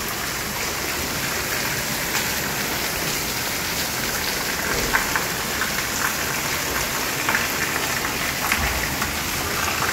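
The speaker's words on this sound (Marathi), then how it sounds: "पाऊस चालू आहे." Steady rain falls outdoors during monsoon weather, a dense, even hiss of drops on surfaces with scattered louder patters, continuous and close with no talk.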